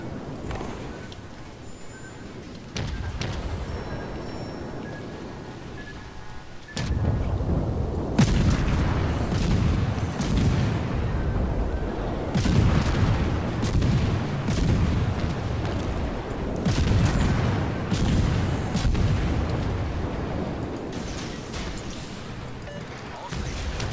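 Naval artillery from a German tier-3 G-101 destroyer in World of Warships, with heavy booms and rumbling salvos over continuous engine and sea noise, loud and close, with a voice speaking at times.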